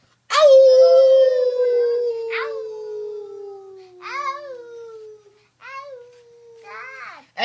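Children voicing a long drawn-out imitation howl at the moon that slowly falls in pitch, followed by several shorter rising howls and bits of babbling between them.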